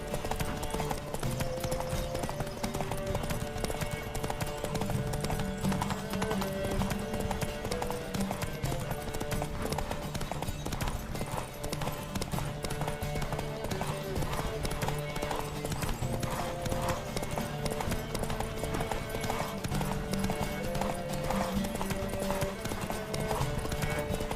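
Steady clip-clop of a galloping horse in a horse race in The Witcher 3 runs throughout, rhythmic and continuous, layered over a dense backdrop of game music and ambient noise.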